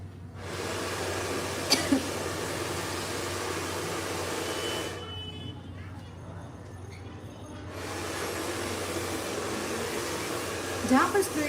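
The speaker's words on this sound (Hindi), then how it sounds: "जहाँ पर स्ट्रेट लाइन आ रही है वहाँ पर ही आपको ब्लो ड्रायर करना है" A hair blow dryer runs with a steady, loud airy whoosh while a woman's long hair is styled for a trending haircut, cutting out for a few seconds before starting again, with small clicks and handling noises.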